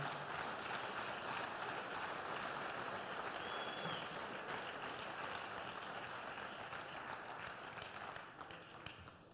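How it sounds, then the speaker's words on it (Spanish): A church congregation claps in sustained, dense applause during a sermon, steady and loud throughout before easing slightly near the end. "Dale un aplauso al Dios de la gloria"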